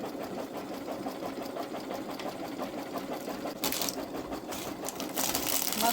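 A Babylock Solaris 3 embroidery machine running at reduced speed while stitching an eagle design with heavy cotton thread, giving a steady, even mechanical whir with rapid stitch clatter, with a few louder knocks toward the end.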